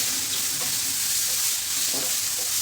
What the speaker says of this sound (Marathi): मशरूम आपल्याला सहा सात मिनटासाठी छान परतून घ्यायचं